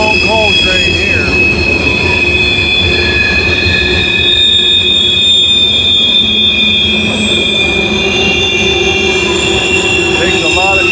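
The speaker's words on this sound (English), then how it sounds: "Man, this is a long coal train here." Long loaded coal freight train rolling past at close range, a continuous loud roar of wheels on rails with steady high-pitched wheel squeal throughout, unbroken for the whole stretch.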